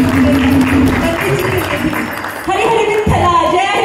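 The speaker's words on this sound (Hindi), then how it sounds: "और सभी बच्चों के लिए एक जोर से ताली तो बजा के" Audience applause for children after a bhajan session at a Vitthal paduka darshan gathering in Scotland, dense and loud throughout, mixed with crowd noise and thinning toward the end.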